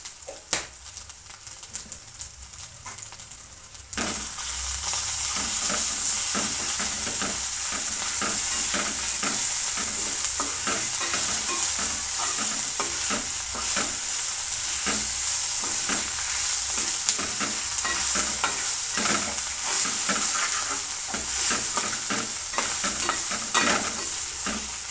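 Homemade ginger paste, about three small spoonfuls, fries and sizzles in a pan for Tadipatri biryani. After a quiet start, a loud, steady sizzle takes over, with a spoon scraping and stirring in quick, repeated strokes close by.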